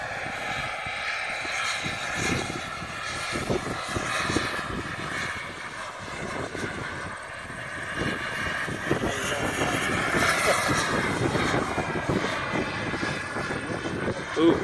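A radio-controlled model airplane engine drones in flight at a club picnic, a steady buzzing whine that rises and falls as the plane passes, with people talking over it.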